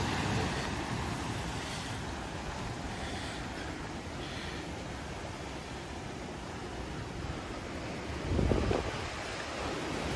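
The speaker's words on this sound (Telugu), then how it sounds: "పొద్దున్నే అలలు బాగా వస్తున్నాయి" Ocean waves wash in continuously at Mirissa Beach, Sri Lanka, a broad steady roar mixed with wind buffeting the microphone and a slightly louder surge near the end.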